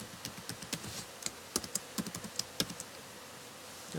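Fingers type a password on a computer keyboard, producing a quiet, irregular patter of close key clicks spread over a few seconds.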